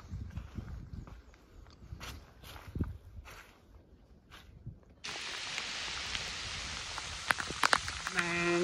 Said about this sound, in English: It's raining here now.